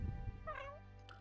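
A single short, faint meow from a pet cat in The Sims 4, rising and falling in pitch, preceded by low rumbling background sound.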